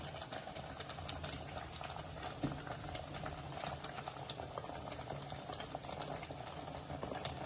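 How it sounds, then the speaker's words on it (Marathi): A coriander mixture boils in a pot with a steady, busy bubbling and popping, continuous and quiet, heard close with no other sounds. "आता ह्या मिश्रणाला छान उकळी आले."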